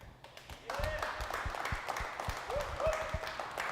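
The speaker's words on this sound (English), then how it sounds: "we're going to give our big dream giveaway round of applause to the grand prize winner, Bill Cornell of Wichita, Kansas" An audience applauds the grand prize winner at a Chevelle dream giveaway event: a sustained patter of clapping, moderately distant, with a voice talking over it.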